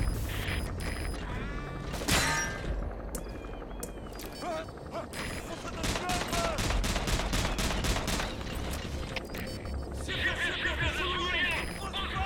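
Gunfire in the video game Metal Gear Solid V: The Phantom Pain: a sharp shot early on, then a rapid, evenly spaced string of loud cracks midway, over busy game ambience with voices in the background.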